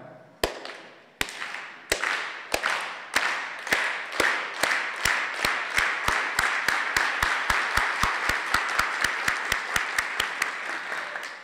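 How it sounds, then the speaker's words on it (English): An audience performs the farm worker clap at a storytelling event: single sharp claps start slow and widely spaced, then speed up steadily into a rapid, loud rhythm before stopping. "please join me for the farm worker clap."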